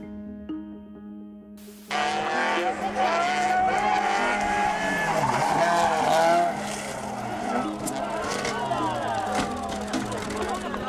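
Cars on a road collide in CCTV footage, with engines roaring after a sudden loud onset and tire squeals sweeping up and down over several seconds.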